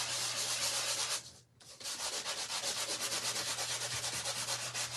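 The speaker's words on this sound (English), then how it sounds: "It's a sanding block." Steady back-and-forth rasping of a nail sanding block rubbing a surface, close and rhythmic, with one brief pause, over a low constant hum.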